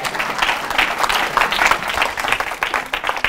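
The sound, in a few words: church congregation applauding, acclaiming the Lord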